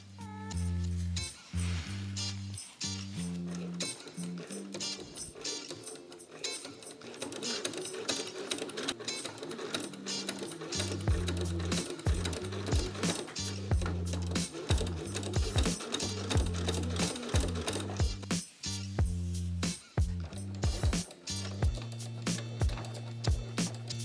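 A sewing machine runs in fast, steady bursts close by, stitching boning channels into the front of a Versace dress replica, with no talking.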